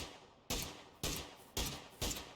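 Four evenly spaced single gunshots from the video game PUBG, each a sharp crack that decays quickly, moderately loud, no talk.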